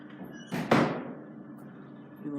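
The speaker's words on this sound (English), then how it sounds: "This one has manual doors." Manual doors of an old single-speed lift in a New Zealand university campus building close with a loud thud and slam, followed by a lingering low rumble; faint background noise surrounds it.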